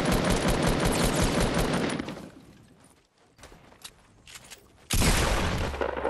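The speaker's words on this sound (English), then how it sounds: "I was literally shooting" Shotgun fire in the video game Fortnite, with a dense, loud barrage of blasts, then a quieter stretch of scattered shots and steps, then another heavy burst of fire.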